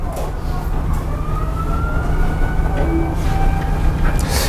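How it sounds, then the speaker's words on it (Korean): A siren outside a classroom in Gangnam, Seoul wails faintly in the distance, its rising and falling tone carried over a steady low rumble of background noise. "저렇게 밖에 사이렌이 울린단 말이야."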